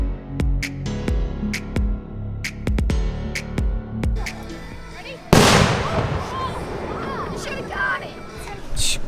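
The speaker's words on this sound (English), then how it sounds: "tonight we are shooting off some fireworks" Fireworks shot off outdoors during a 4th of July weekend, a string of sharp crackling pops and bangs followed by a loud, sustained burst of dense crackle, fairly close, with no voices.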